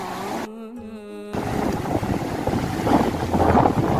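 Large ocean waves crashing below a high cliff, a loud broadband roar and rush of surf buffeted by heavy wind noise, swelling toward the end, after a brief musical tone at the start.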